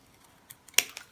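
Scissors cut a paper insert for a traveler's notebook, making a few quiet, quick snips in close succession.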